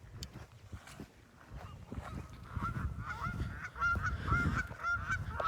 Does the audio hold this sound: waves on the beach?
no